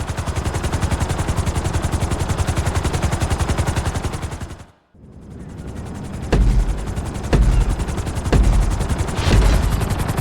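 Helicopter in the GTA 5 flight school video game, a steady loud rotor drone that briefly cuts out near the middle, then returns with heavy thumping bursts like gunfire.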